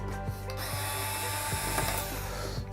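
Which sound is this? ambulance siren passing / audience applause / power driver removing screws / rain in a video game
power driver removing screws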